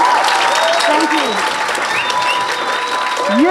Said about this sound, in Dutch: Dan ga ik jullie vragen om hun nog even een hartelijk applaus te geven.